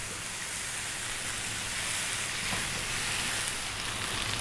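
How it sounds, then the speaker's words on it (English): Chicken fried rice, Indian style, fries in a hot pan, giving a continuous loud rain-like sizzle and crackle throughout with no talking. "Fry your rice, fry your rice, fry your rice."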